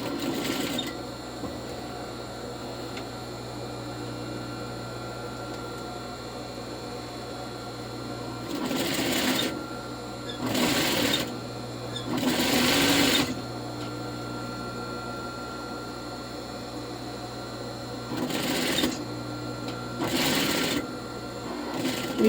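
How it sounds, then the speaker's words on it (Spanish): A home sewing machine stitching the facing to the lining of a lined A-line skirt, a steady low hum underneath with several loud bursts of fast needle stitching, close and alone without talk. "voy a coser la vista al forro a una costura de 1 centímetro de ancho"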